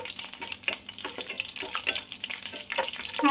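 Bay leaves frying in hot oil for a green chicken curry, a busy crackling sizzle with scattered pops and stirring scrapes, fairly close and steady, with a sharper burst near the end.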